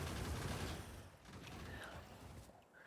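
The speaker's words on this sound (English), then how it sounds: "Look at those shotgun turrets." Shotgun turrets in the Factorio game fire a dense, rattling volley of blasts that spreads into a noisy burst before easing off, with a few softer mechanical clanks near the end.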